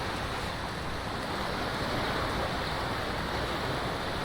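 Sea waves wash onto a beach in Boracay in a continuous, loud broadband roar of surf with some wind, steady throughout and no voices.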